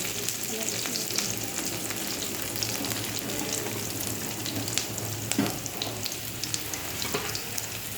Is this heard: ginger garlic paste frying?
yes